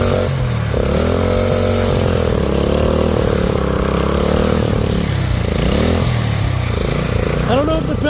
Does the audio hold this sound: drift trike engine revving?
yes